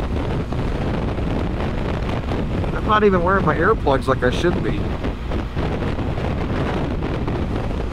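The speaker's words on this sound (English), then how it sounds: "Yeah, that's the wind. It's not unmanageable, but it's so damn loud that I can hardly hear the engine of the motorcycle right now." Loud, steady wind roars across the microphone while riding a motorcycle on a long trip toward the Arctic Circle in Alaska, nearly burying the engine, with someone talking briefly over the rush midway.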